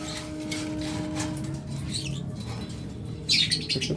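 Lovebirds kept in cages at a bird farm give faint, scattered chirps over a steady low hum, with a brighter burst of twittering near the end.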